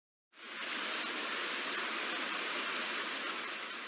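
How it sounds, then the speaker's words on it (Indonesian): Heavy rain begins abruptly and then pours down steadily as a dense, even hiss that stays loud and constant, with no voices over it. "Wah, hujan deras."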